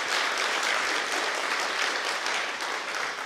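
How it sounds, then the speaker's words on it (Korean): A room full of teachers applauds warmly, dense and continuous from start to finish as a lively, encouraging wash of many hands. "우리 한번 격려의 박수 한번 할까요?"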